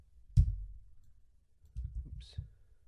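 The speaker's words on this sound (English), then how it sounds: "control clicking on there, adjusting my path." Computer mouse clicks while tracing a path, a few sharp separate clicks with quiet gaps between, close and fairly soft, with no talking.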